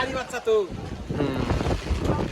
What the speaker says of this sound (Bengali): এই বৃষ্টিতে যে বাতাস দিচ্ছে